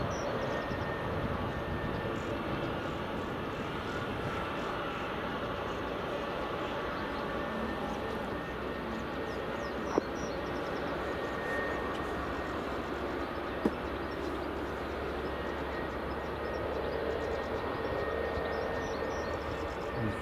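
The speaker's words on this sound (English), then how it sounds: "Jet2 737-800 just about to depart, and Delta 767 just taxiing in." Steady, distant jet engine roar at Edinburgh Airport near runway 24, from a Jet2 Boeing 737-800 about to depart and a Delta 767 taxiing in, a broad, even rumble for the whole stretch.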